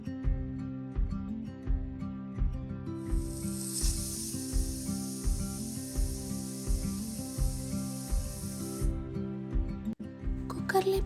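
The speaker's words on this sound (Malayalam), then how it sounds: "കുക്കറിൻ്റെ ലിഡ് ക്ലോസ് ചെയ്ത് ഒരു 2 വിസിൽസ് ആവും വരെ കുക്ക് ചെയ്തെടുക്കുക" A pressure cooker on a stove cooking rice gruel lets out a long, steady hiss of escaping steam in the middle of a rhythmic, repeating thumping background.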